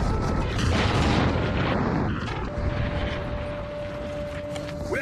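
A loud, rumbling blast of gunpowder barrels exploding, with dense low-end roar that gradually settles into a lingering noisy rumble, with a steady tone emerging later.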